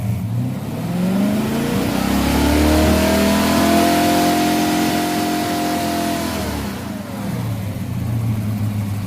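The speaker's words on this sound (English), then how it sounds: "Rev it again." A 1978 Chevrolet Monza Spyder engine, supercharged by a leaf blower and idling fast, revs up from idle to a sustained high whine, holds for a few seconds, then falls back to a low idle, loud and close.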